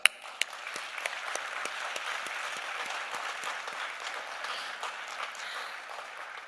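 A summit audience at the Ghana Diaspora Homecoming claps for themselves. A few sharp early claps swell into a sustained, even round of applause heard from a distance.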